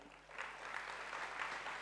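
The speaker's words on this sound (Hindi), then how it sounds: "तालियां।" Applause from an audience at a spiritual talk on staying stable during chaos, a soft, steady patter of clapping heard at a distance and fairly faint, continuing evenly for a couple of seconds.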